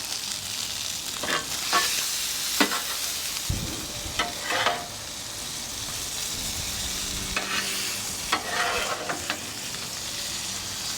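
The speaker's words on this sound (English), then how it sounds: "Fry up that garlic a little bit." Garlic frying on a Blackstone griddle with ribeye steak cooking nearby, giving a steady sizzle broken by several sharp scraping strokes of a spatula moving the food around.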